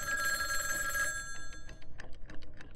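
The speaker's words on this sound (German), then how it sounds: "das Telefon hat geklingelt" An old-style telephone bell rings loudly in the horror game Obscuritas, a sustained metallic trill lasting about a second, then a run of soft footsteps and clicks.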